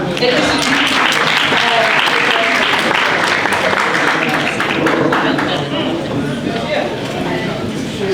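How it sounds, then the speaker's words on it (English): Sustained loud applause from a security summit crowd, steady and dense, with some voices mixed in beneath the clapping. "Let's give him a round of applause and then we can all sit down."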